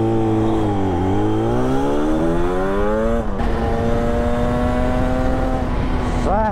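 A Yamaha RD350 YPVS 1980s two-stroke motorcycle pulls away loudly up close, its engine note rising and falling through gear changes in a steady rasping drone with wind noise from the ride.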